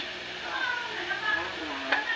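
Papaya being stir-fried with sardines in a pan, a steady close sizzle with soft stirring scrapes and a brief clink of a utensil.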